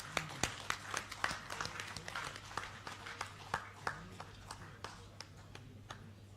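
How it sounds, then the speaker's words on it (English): Audience clapping at a felicitation ceremony for lawyers and advocates general, scattered and moderately faint, with irregular claps over a steady hum and a voice heard alongside. "Kindly give a big round of applause"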